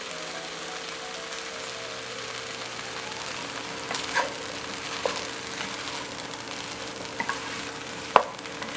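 A chicken tetrazzini mixture is stirred in a pan, a soft continuous sizzle with faint scraping and a few sharper clinks of the utensil against the pan.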